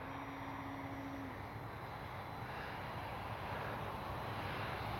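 An RC airplane comes in to land in safe mode with its flaps fully down and the throttle cut. A steady, moderately loud drone of motor and air noise continues through the clip without a break.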